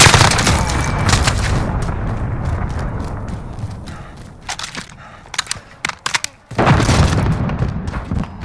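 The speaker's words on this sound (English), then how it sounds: "Allied cruise missile launched" A cruise missile strike in Call of Duty Modern Warfare rolls in as a loud, sustained rumbling blast with crumbling debris, then fades into scattered gunshot cracks before a second heavy burst of explosive noise.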